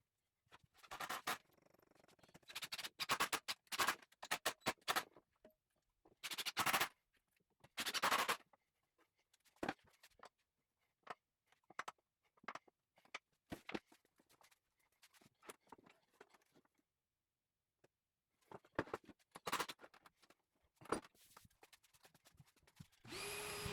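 A power drill drives screws through a frame into a pallet wood tabletop in irregular bursts of whirring, separated by quiet pauses and small handling knocks.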